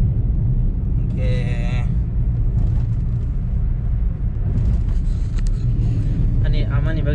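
A car drives with a constant low road rumble and engine drone throughout, while voices talk over it in the cabin.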